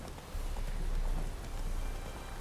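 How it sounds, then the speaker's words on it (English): Horse riding in The Witcher 3 video game, a continuous, dense rumble of galloping hooves with steady clip-clop rhythm and no talking. "I just suddenly felt like going on a little horse ride, so here we are"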